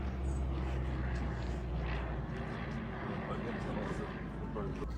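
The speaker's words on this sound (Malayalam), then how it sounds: "നമ്മുടെ മേളിൽ കൂടെ ഒരു ഫ്ലൈറ്റ് പോകുന്നുണ്ട്." A steady, low droning roar of an airplane passing overhead near an airport fills the air, constant and moderately loud, with faint voices nearby.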